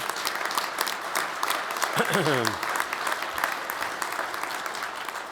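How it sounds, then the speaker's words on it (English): A room full of people at an event with Virginia Governor Terry McAuliffe gives a sustained round of applause for veterans in the audience. The clapping is thick and continuous, with a brief whistle-like sweep rising through it midway. "Give them a great round of applause if you could."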